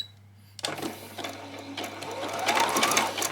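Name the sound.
sewing machine zigzag stitching across skirt fabric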